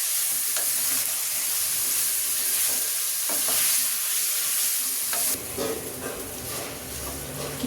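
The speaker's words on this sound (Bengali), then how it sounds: "এখন আমি কিমাটা দিয়ে দিচ্ছি" Minced meat (keema) for a biryani being stirred and fried in a pan with ginger garlic paste, a steady close sizzle with scraping spatula strokes throughout, the hiss shifting and dropping slightly partway through.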